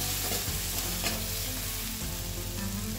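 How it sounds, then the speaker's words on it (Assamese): Ghuguni with food colouring stirred in a pan, a loud continuous sizzle from close by with occasional scraping strokes of the spoon and no talk. "এতিয়া ভালধৰণে লৰাই লওঁ"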